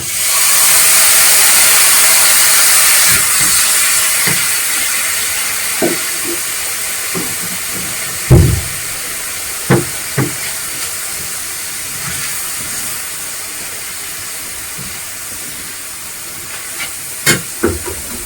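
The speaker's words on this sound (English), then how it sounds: "And then in this pan we're going to fry our minced meat." Minced meat hits hot oil in a pan, starting with a loud broad hiss that fades to a quieter sizzle, broken by occasional sharp clinks and knocks, with no talking.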